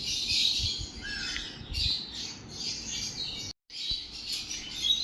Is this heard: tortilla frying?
no